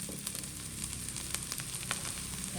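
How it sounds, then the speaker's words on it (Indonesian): Tempeh frying in hot oil in a wok, a steady dense sizzle with crackling pops throughout, close and continuous with no talking. "karena minyak yang di wajan sini udah panas, saya mau goreng tempe di sini ya"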